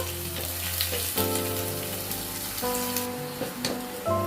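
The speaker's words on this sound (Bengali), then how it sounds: "দেখো নাড়াচাড়া করছি আমি" Garlic, ginger and green and red chillies sizzle steadily in hot oil in a pan, with a few scraping stir strokes of a spoon over a constant crackling fry.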